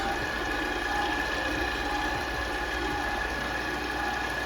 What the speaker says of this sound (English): we're going to put our mixer down, you guys, and we're gonna go slow at first until we get it mixed